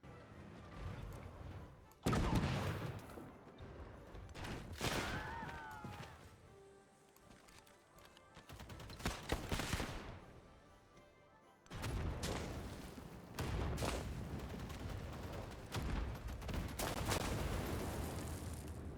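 Mortar unit attacking in Civilization 7, heard as several heavy booming impacts and crashes, loud bursts separated by quieter stretches, with battle noise between them.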